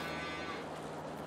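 Dairy cows in Farming Simulator 22 give a sustained, low, droning moo that holds steady across the moment and stays fairly quiet.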